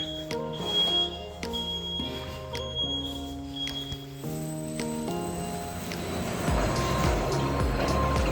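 A machine for stretching elastic pallet netting, fitted with two brakes and a perforated roller, starts with tonal beeps and clicks, then builds into a louder continuous mechanical rumble and whir.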